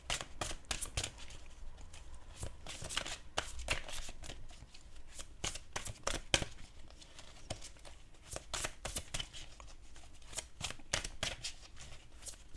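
Oracle cards being shuffled by hand, a steady run of crisp papery riffles and flicks repeating close up and fairly quiet, with no talking over them.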